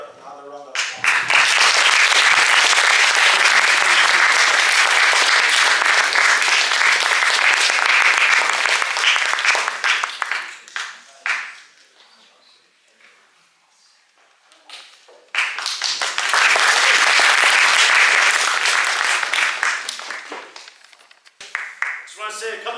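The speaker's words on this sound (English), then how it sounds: "Let's give her another round of applause." An audience at a school coffee house evening breaks into two long bursts of loud, dense applause, separated by a quiet gap with scattered claps, and fading away at the end.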